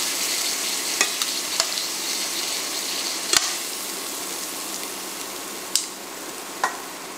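Beef for stroganoff sears in a hot pan, a steady sizzle throughout with a few sharp clicks and scrapes of a utensil against the pan.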